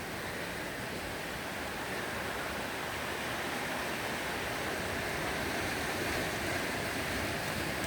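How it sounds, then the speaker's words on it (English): Ocean waves wash over rocks in a steady broadband roar of surf, continuous and fairly loud for the whole stretch, with no voices. "I stand here and I look at the ocean washing over these rocks"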